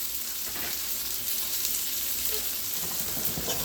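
Chicken cutlets frying in a pan, a steady close sizzle and crackle of hot oil that continues without pause, with no voices.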